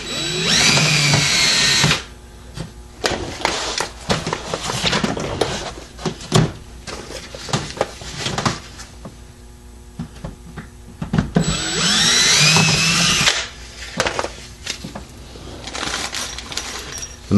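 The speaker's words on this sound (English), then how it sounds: "So you drill this front one." A power drill whines in two bursts drilling a Corvette C6 body panel for side rockers, separated by clattering, tapping and handling noises of metal work, close and loud.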